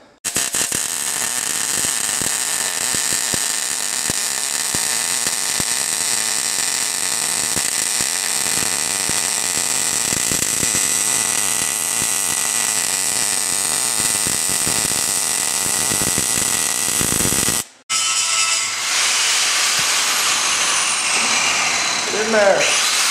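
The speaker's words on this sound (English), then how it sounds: "So, time to plasma cut." A plasma cutter slicing metal for a Camaro drag car build, a loud steady hissing buzz running nearly unbroken for about seventeen seconds, then a brief cutoff and a different, harsher tone.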